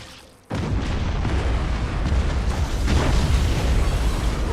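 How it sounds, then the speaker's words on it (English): Torpedo explosions in a space battle in Battlefleet Gothic: Armada 2: a sudden loud boom after a brief lull, then a dense, sustained rumble of overlapping blasts that stays heavy to the end. "They just launched heaps of torpedoes on their own ships."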